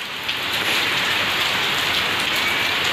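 Heavy monsoon rain pours down outside a home, a loud, dense and continuous roar of drops drumming on surfaces close by, with no talking.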